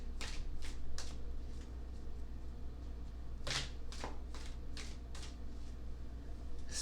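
Tarot cards being shuffled by hand, a steady run of crisp riffling bursts and soft papery slaps close by, with a low constant hum underneath and no talking.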